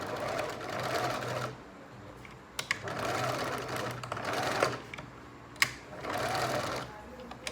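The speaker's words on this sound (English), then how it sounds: "I'm going to stitch it so it's slightly bended like that." A sewing machine stitches the curved end of a fabric pencil case in several running bursts of rapid mechanical chatter, separated by short pauses with a few sharp clicks and faint background noise.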